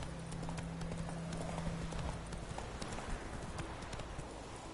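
A horse in The Witcher 3 trots steadily, its hooves clip-clopping in an even rhythm, close and clear over a dense game soundscape.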